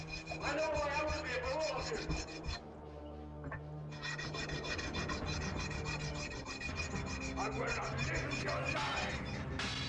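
Guitar frets being sanded level with steady back-and-forth rubbing and rasping strokes, fairly close and continuous with a brief pause partway through, no talking.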